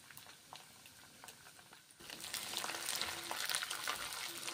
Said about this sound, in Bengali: গরম তেলের সঙ্গে মুসুরির ডালগুলো এখন আমি ভেজে নিচ্ছি